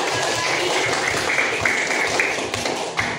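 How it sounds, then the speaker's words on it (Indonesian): A class claps for Kak Sana during a teacher-training lesson. The applause is a steady patter of many hands that runs the whole time at a fairly even loudness, with a few sharper claps near the end. "Tepuk tangan untuk Kak Sana dulu."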